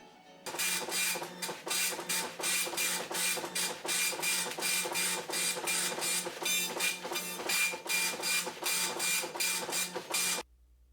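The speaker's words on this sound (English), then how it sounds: "Compare this to it running as a line printer," A mid-1990s computer printer prints text in line printer mode, buzzing loudly in rapid, regular bursts for about ten seconds before stopping abruptly.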